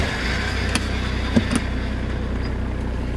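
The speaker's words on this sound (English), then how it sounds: "First gear low range, let's head up this hill." 4WD vehicle engine in first gear low range heading up a steep hill, a close, steady low rumbling drone with a couple of brief knocks and no talk.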